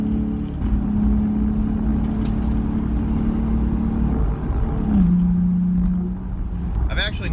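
Nissan 350Z engine idling steadily with a low drone, then briefly revving near the end, steady and fairly loud, with a person talking over it throughout.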